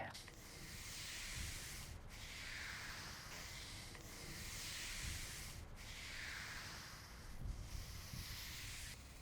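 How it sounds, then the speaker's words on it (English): A broom pushed in long, repeated strokes across wet acrylic pavement coating, giving a steady, close scrubbing swish with brief pauses between passes, and no voices. "what George and Christian are doing is they're taking any areas where there may be some thicker product application, and they're just simply with their broom moving"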